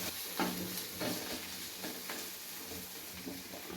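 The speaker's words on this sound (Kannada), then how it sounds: "ಇದನ್ನು ಚೆನ್ನಾಗಿ ಫ್ರೈ ಮಾಡ್ಕೊತೀನಿ, ಮಿಕ್ಸ್ ಮಾಡ್ಕೊತೀನಿ." Okra palya (bendekayi) frying in a pan with coriander leaves, steady sizzle under repeated scraping stirs of a spatula, close and continuous with no talk.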